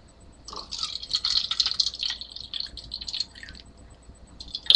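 Water poured from close by into a cup for a homemade lava lamp, a trickling, splashing pour of a couple of seconds that tapers off and is followed by a few faint drips.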